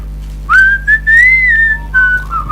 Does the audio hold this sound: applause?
no